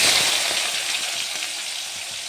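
Onions frying in hot oil with whole garam masala spices, a steady loud sizzle throughout, starting strongest and easing slightly, with no voices.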